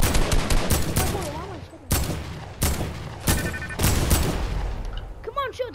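Rapid bursts of gunfire from the video game Fortnite, loud and near, firing in repeated volleys with short gaps, while players talk over the shooting.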